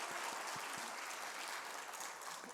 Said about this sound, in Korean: 박수 한번 세게 쳐보세요.